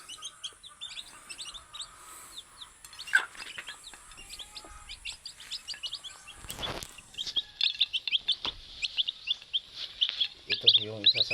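Chickens being hand-fed, giving soft clucks and scattered chirps through the whole stretch, with a burst of louder, busier calling near the end, close by, with brief background voices and a few knocks.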